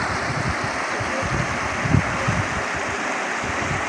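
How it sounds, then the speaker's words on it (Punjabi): Flood water of the Ravi river rushes in a steady, broad roar, a continuous outdoor torrent spreading across low-lying land with no voices over it. "ਇੱਥੇ ਪਾਣੀ ਦੀ ਆਵਾਜ਼ ਵੀ ਤੁਸੀਂ ਸੁਣਦੇ ਪਏ ਨੇ"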